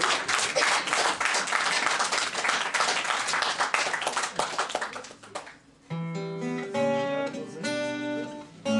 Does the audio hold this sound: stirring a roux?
no